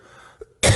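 A single sharp, loud cough bursts out near the end, preceded by a quiet breath and a faint throat sound, from a man giving a spoken Bible lesson on Proverbs.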